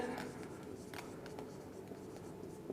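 Chalk or marker scratching on a board during a Class 10 chemistry lesson on chemical equations, a steady faint scraping that runs for a few seconds with no voice over it.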